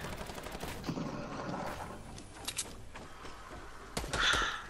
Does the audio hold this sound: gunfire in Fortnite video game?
yes